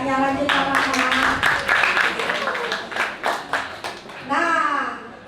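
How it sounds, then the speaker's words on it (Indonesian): Students at a school photography and digital design session clap for a presenter in a short burst of uneven claps, mixed with overlapping voices and talk before and after. "tepuk tangan untuk kakaknya"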